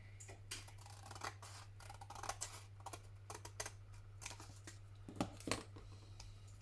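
Scissors trim paper for a handmade flower mosaic postcard, a series of quiet, close crisp snips coming irregularly over a low steady hum, with no talking.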